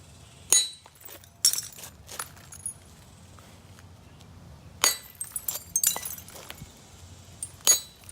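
Sharp stone-on-flint strikes while knapping a huge flint nodule by direct percussion, a handful of distinct clicking impacts spread irregularly, close and fairly loud, with quiet pauses between blows and no talk.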